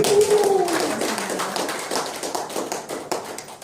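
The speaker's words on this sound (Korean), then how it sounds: "우리 큰 박수로 청해하도록 하겠습니다" An audience at a Korean commemorative event applauds with steady, dense clapping that fades slightly toward the end, a brief voice tone sounding at the start.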